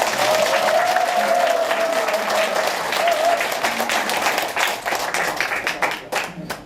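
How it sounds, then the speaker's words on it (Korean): An audience applauds at the opening of an election campaign office in Yeongcheon, South Korea. The clapping is dense and sustained and fades toward the end. "이럴 때 박수 한번 쳐주이소."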